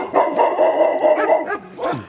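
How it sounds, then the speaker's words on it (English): Several dogs barking and yipping nearby at a house visit, a loud run of overlapping barks with a brief whimpering note near the end. "lot of dogs, huh?"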